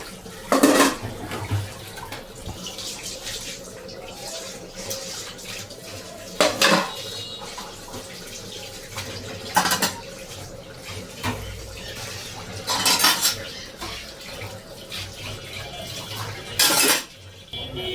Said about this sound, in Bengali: আর এখানে যা বাসন বেরিয়েছে সেগুলো মা ধুয়ে নিচ্ছে